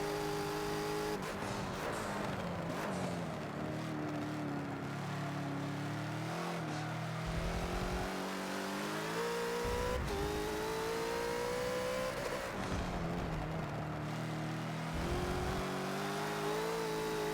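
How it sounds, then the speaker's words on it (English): A Bentley GT3 race car in the Forza video game at Laguna Seca revs hard, its engine note rising and falling through gear changes as the rear tires spin up, loud and continuous with no talking. "even rolling back into the throttle, you're going to hear the rear tires spinning up."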